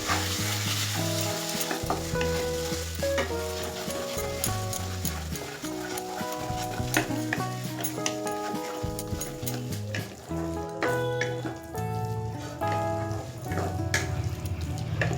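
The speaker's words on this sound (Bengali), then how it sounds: "5-6 মিনিট কাঁকরোলের পুরটাকে কষিয়ে নেব।" Teasel gourd (kakrol) stuffing with sugar and turmeric being stir-fried in a pan, steady sizzle with repeated scraping stirs throughout, fairly loud and close.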